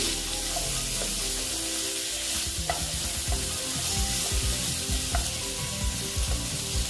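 Bitter gourd, potato and pumpkin fry in a pan for a vegetarian chechki, a steady sizzle broken by repeated stirring scrapes and taps, close and alone without talk.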